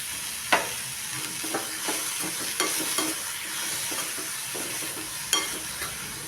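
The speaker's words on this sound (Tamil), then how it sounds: "தேங்காய் பூ சேர்த்து இந்த கிண்டி அடுப்பை ஆஃப் பண்ணிடலாம்" Cluster bean poriyal with grated coconut stirred in a hot pan as it cooks, spoon scraping and clacking in irregular knocks over a steady low sizzle, close by with no talking.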